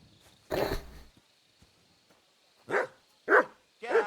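Several sharp dog barks in Kingdom Come Deliverance 2: one loud, noisy burst early on, then after a pause three evenly spaced barks close to the listener over a faint, steady game ambience.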